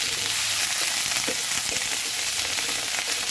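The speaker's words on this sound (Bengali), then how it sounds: "এবার একটু তেল দিয়ে আবার পেঁয়াজ, রসুন আর লঙ্কাটাকে ভেজে নিই।" Onion, garlic and chilli fry in a little oil in a pan, giving a dense, even sizzle that holds steady throughout, with a faint stir or two and no voices.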